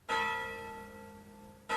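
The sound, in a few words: bell ringing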